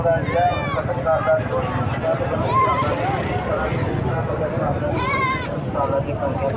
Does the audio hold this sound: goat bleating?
yes